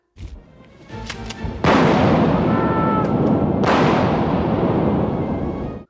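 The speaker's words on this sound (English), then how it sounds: "And then Dan Haggerty just shoots Joe with a shotgun." Shotgun blast in the 1989 film The Chilling, a few sharp clicks and thumps leading into a loud booming blast, then a second surge of roaring noise that sustains before cutting off.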